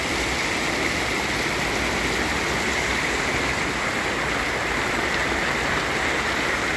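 Water bubbling and rushing in a natural rural pool in the Bahia backcountry, a dense, steady wash of churning water like a hydromassage, continuous and close with no voices.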